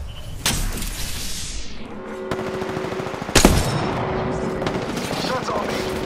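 Video game gunfire during a squad firefight, sharp automatic bursts and a couple of loud cracks close up over steady ambient combat noise, with voice callouts mixed in.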